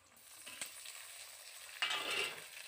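Onion frying in a pan with ginger-garlic paste and chopped tomato, a soft sizzle that swells into a louder, hissing burst near the end as more goes in, close, no speech.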